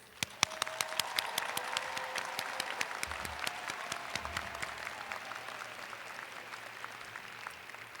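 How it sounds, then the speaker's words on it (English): A large audience applauds new doctoral graduates at a university commencement ceremony in a big hall: sustained, steady clapping with sharp individual claps near the front, gradually easing off. "How about another round of applause for our newest graduates?"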